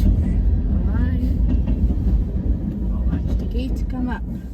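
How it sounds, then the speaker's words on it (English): Heavy low rumble of a train passing a railroad crossing in Struthers, loud and close and fading toward the end, with people talking over it. "That was a short train."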